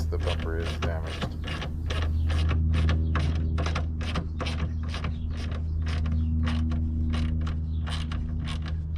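A ratchet wrench tightening a 10 mm bolt on a damaged 2010 Toyota Prius bumper, giving a rapid, even run of close, sharp clicks over a steady low hum, no voices.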